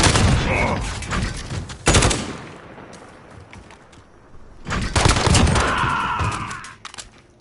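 Rapid bursts of M19 pistol fire in Call of Duty: Modern Warfare, two loud volleys of fast shots separated by a quieter lull, close and dense.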